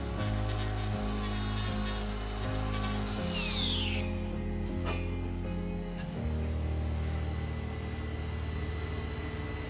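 An electric grinder trims the horn of a cow's hoof wall with a continuous high whine that shifts pitch as it bites and eases off, the motor dropping lower in the final seconds; no one speaks.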